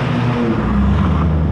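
A car engine revs loudly as it drives past, a close, steady rumbling roar with a strong low-pitched tone, without any talking.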